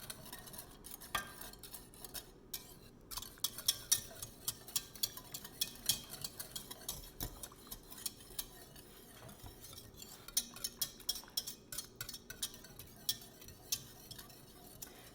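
A utensil stirs lumpy macaroni and cheese sauce in a pot, giving soft, irregular scraping and clinking taps against the metal that continue steadily at low volume.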